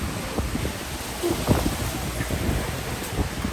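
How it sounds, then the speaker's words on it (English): Steady rain in Tobago with a broadband hiss and gusty wind buffeting the microphone, a continuous wet wash that never lets up. "Nice rainy."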